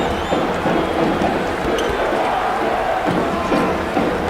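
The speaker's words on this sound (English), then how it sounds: "Letting the crowd speak a little bit here as they get back into it" Simulated basketball crowd in a college game arena, a continuous roar of cheering and murmuring with occasional sneaker squeaks and ball bounces, steady and moderately loud throughout.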